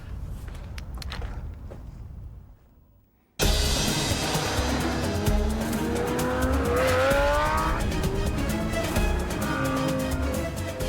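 Lamborghini Gallardo Spider supercar driving with loud, sustained engine noise and tire squeal, rising and shifting pitch after a brief quiet lull.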